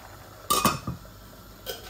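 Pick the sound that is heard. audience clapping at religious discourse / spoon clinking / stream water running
spoon clinking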